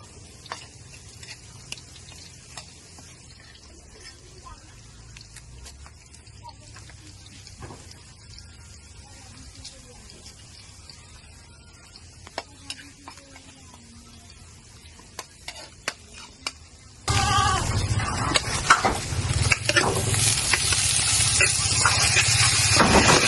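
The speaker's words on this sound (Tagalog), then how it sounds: "gigisa na namin yung puso ng saging" Banana heart sautéed with garlic in a pan makes a faint low sizzle at first, then a loud, steady, close hiss of frying that continues to the end.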